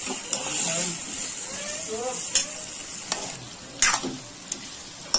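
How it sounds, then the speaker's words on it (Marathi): Potatoes mixed with a little salt cook in a pan for methi aloo, with a spoon scraping and stirring against the metal and a gentle sizzle, while someone talks quietly over it. "सर्व मिक्स करून बटाटा छानपैकी वाफवून घ्यायचा आहे"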